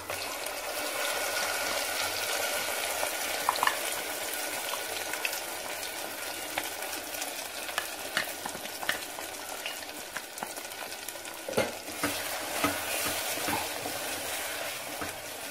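Ground masala paste and curry leaves sauté in a pan with shallots for a simple home lunch, giving a steady, moderately loud sizzle with occasional spatula scrapes and stirring clicks throughout.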